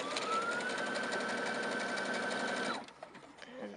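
Sewing machine stitching steadily at high speed for close to three seconds, loud and close, then stopping abruptly with faint handling noises afterward.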